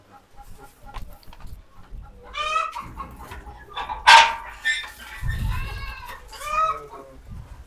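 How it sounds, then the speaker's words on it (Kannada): Free-ranging native chickens cluck and a rooster crows loudly in bursts at a poultry farm, with a dog barking now and then and quiet background chatter. "ಇಲ್ಲಿ ಕೇಳಿಸುತ್ತಲ್ಲ ಕೂಗೋದು ಕೆಳಗಡೆ ಕೋಳಿ ಫಾರಂ ಮಾಡಿದ್ದಾರೆ"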